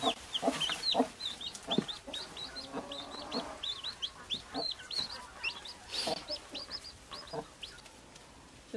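Farmyard chickens cluck softly while feeding, a run of quiet repeated calls with some faint scratching and pecking noises in the background.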